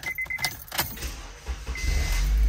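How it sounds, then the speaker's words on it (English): A 2007 Honda car starts up after a brief jangle of keys, the engine cranking and catching into a low rumble that builds and holds steady near the end. "start the car"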